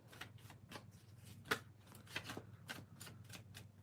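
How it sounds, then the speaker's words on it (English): Tarot cards being shuffled in quick, crisp riffles, a soft rhythmic flutter with a few sharper snaps, close by and fairly quiet. "let me shuffle the cards"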